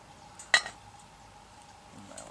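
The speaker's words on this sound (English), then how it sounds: "we'll get the skillet on" A metal skillet clanks down onto a camp stove at a bushcraft cooking spot, one sharp clink followed by a short rattle, then quiet outdoor background and a faint shuffle.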